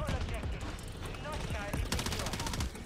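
Rapid bursts of gunfire in Call of Duty crackle in quick succession, dense automatic fire with sharp repeated shots through the stretch, heard beneath a player's voice.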